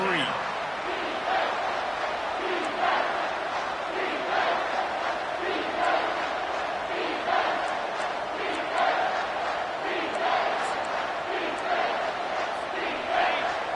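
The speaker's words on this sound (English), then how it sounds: "Here comes this home crowd as the defense tries to get off the field on third down." A home crowd roars at a college football game as the defense faces third down, a loud sustained cheer with rhythmic surges, under a commentator's voice.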